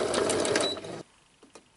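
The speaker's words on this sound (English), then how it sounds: "I'm just sewing more of the little snippets down" Sewing machine stitching small fabric snippets down, a loud rapid mechanical whirr for about a second that then stops, leaving a few faint clicks and taps, no voices.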